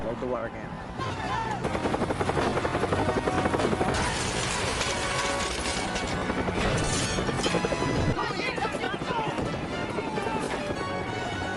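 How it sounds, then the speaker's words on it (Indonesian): A helicopter's rotor thrum churns beneath dense background music and a voice, constant and fairly busy throughout. "Misi mereka selanjutnya adalah melumpuhkan helikopter."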